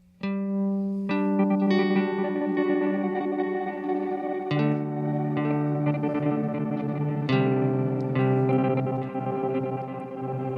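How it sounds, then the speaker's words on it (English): Guitar run through a conventional delay feeding an octave-up granular shimmer effect, layered repeating notes with a stuttering, chorus-like wash that sustains continuously for about ten seconds, with no talk. "very conventional sounding delay into an octave up granular process"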